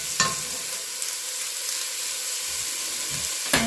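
Food browning in a frying pan with a steady, close sizzle and hiss of hot oil, broken by a couple of brief clatters from stirring.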